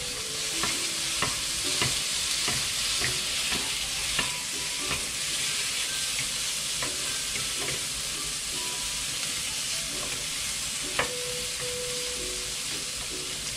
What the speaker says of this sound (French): Voilà, la viande. Voilà, je vais rapidement retourner tout ça.